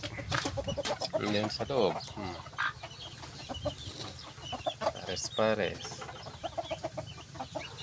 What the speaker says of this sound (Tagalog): Meron din tayong mga manok dito.